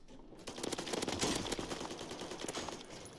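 Rapid automatic gunfire from the video game Warzone at longer range while strafing side to side, a dense, loud, continuous burst of shots with no talk over it.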